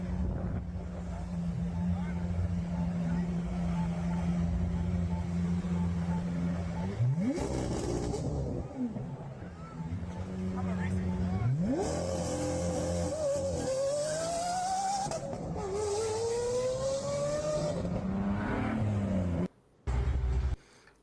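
Racing cars rev and accelerate, their engine pitch climbing and shifting through gears in repeated rising sweeps. A voice talks over the engines throughout.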